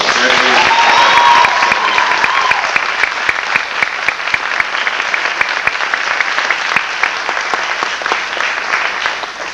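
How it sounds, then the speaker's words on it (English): Audience applause at a 1993 graduation ceremony, a loud, steady wave of clapping from a large crowd that fades slightly toward the end, with a voice briefly heard at the start. "let's give them a round of applause."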